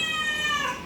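A cat lets out a loud, drawn-out scream while being given a shower, a single close yowl that fades slightly at the end.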